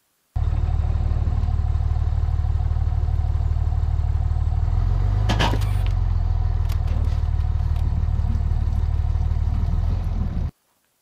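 A vehicle engine pulls a trailer forward, a steady low rumbling drone heard close and loud, with a brief clatter partway through.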